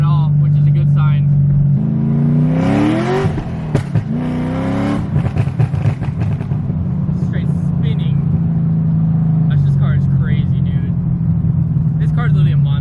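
A lowered C6 Corvette cruises around the block, its engine a steady, close, throaty drone that revs up and settles through gear changes, with people talking over it.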